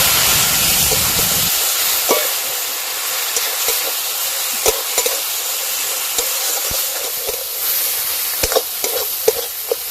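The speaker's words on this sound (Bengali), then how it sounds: "অল্প একটু জল দিয়ে মশলা খুব ভালো করে কষে নেব" Ground turmeric, chili and cumin masala being fried and stirred with a little water for a fish curry, a steady hiss with repeated sharp scrapes and taps of the spatula against the pan, no voices.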